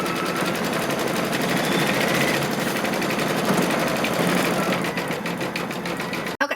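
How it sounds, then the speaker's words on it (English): A Kimberbell embroidery machine running a satin stitch around an appliqué face on a quilt block, with a continuous fast, dense mechanical chatter held at steady loudness nearby, ending with a brief clunk. "it's just going to do a satin stitch around his face"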